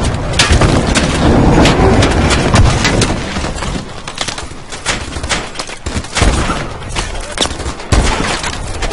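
Video game gunfire rings out in a shooter match, loud and dense, with repeated bursts and single shots spread across the whole stretch and no talk over it.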